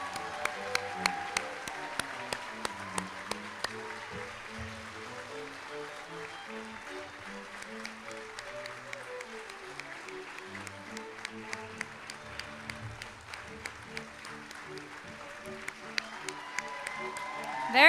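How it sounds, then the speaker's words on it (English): Scattered applause from the audience at a medical school white coat ceremony for the Class of 2030 in Great Falls, Montana, fairly faint and intermittent beneath music and a voice across eighteen seconds. "All right, keep those claps coming, everybody."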